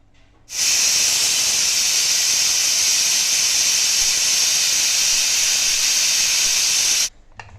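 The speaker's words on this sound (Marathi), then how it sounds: "कुकरच्या पाच शिट्ट्या झालेल्या आहेत" A pressure cooker's loud, steady high-pitched whistle of steam jetting out for several seconds, starting and stopping abruptly, with no voices.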